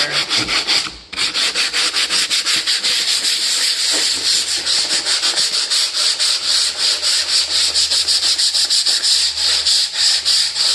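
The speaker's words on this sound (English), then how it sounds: "with the 80 grit, you're going to want to get into all your cracks and crevices here" Coarse 80-grit sandpaper rubs back and forth over a plastic door panel from a 1973 Plymouth Road Runner, making a close, loud, rhythmic rasping that repeats steadily after a short pause near the start.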